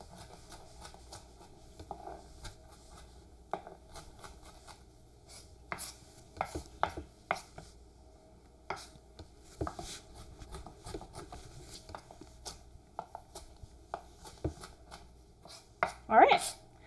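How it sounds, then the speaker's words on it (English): An onion is chopped with a knife steadied by a PSYONIC Ability bionic hand: irregular, close, crisp knife taps on a cutting board, scattered throughout with brief pauses and a louder clatter near the end. "I'm really pressing with my bionic hand on the knife. And then I can make the chops with this hand."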